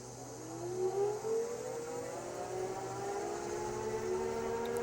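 A Mod-Bikes Mod Easy 3 electric bike pulls away on throttle up a hill, its motor a steady rising whine that climbs slowly in pitch over a few seconds, with wind noise and no talking.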